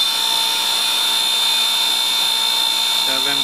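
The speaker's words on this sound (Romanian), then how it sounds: "Vom conecta motorașul la baterie." Small car windshield wiper motor wired to a battery, running as a steady high-pitched electric whine with a constant tone, loud and close throughout, changing slightly at the very end.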